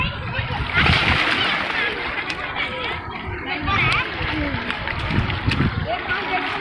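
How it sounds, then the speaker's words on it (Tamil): A child swimming and splashing in a pool, with continuous watery splashing and sloshing up close while children's and adult voices talk over it. "நீச்சல் அடிப்பான், நீச்சல் அடி, ஸ்விம்மிங் பண்ணு."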